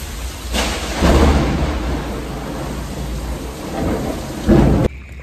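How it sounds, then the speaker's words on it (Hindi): Heavy rain pours down in a dense, constant hiss, with low rumbling swells rising and fading, loud and close. "बारिश।"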